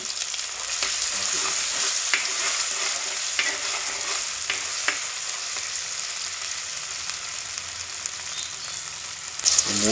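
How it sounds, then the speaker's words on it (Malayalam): Crab roast masala paste with green chillies fries steadily in a pan, a dense continuous sizzle broken by occasional scraping strokes of a spoon stirring it, close and loud throughout. "മൂത്ത് പോകാൻ നോക്കണേ. ഇടയ്ക്കിടക്കിക്കൊണ്ടിരിക്കുക."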